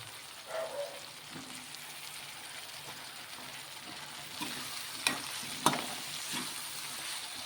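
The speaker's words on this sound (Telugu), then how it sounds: "ఈ వంకాయ కూడా బాగా ఫ్రై అయ్యేంత వరకు ఇలాగా మగ్గించుకున్నామండి." Eggplant fries in a pan for a Telugu mango, eggplant and broad bean curry, with a steady soft sizzle throughout and a few brief clinks and stirring scrapes near the end.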